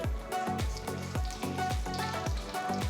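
Close, crackling sizzle of mustard and cumin seeds popping in hot oil, with quick irregular pops over a constant frying hiss.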